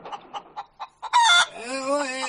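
Chickens cluck in a quick series of short calls, then a rooster crows loudly and close by, a long rising and falling cry.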